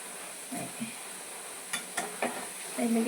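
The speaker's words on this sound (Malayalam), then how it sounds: "സവോള ചെറുതായിട്ട് അരിഞ്ഞതാണ് നമ്മളിപ്പോൾ കാച്ചി ഇടുന്നത്" Finely chopped onions frying in a pan, a steady faint sizzle with a few soft stirring scrapes and clicks of the spoon, quiet and close.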